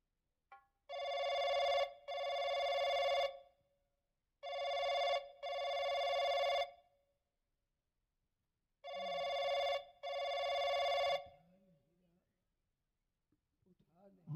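A mobile phone rings loud and close in three bursts, each a pair of long electronic trills separated by short gaps, and the room falls silent between them apart from faint sounds near the end.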